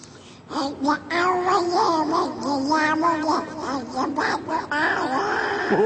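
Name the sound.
voice imitating cat singing a song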